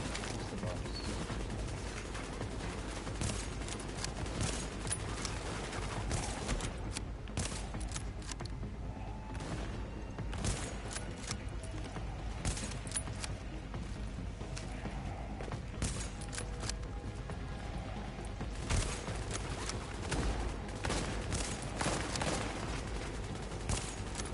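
Steady bursts of gunshots from a PS4 shooter game, a continuous rattling fusillade at moderate, even volume with no talking over it.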